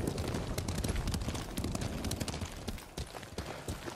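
Horse hooves gallop in Ghost of Tsushima, a fast rolling clatter with steady loud rhythm that eases slightly toward the end.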